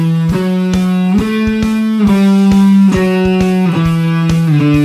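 Loud, gritty distorted bass guitar plays a low riff of plucked notes with sharp attacks, buzzing harmonics ringing steadily.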